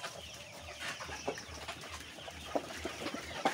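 Egyptian Fayoumi chickens about 70 days old cluck softly in a quiet poultry farmyard in Taraganj, Rangpur, with scattered short calls and light rustling, no voices.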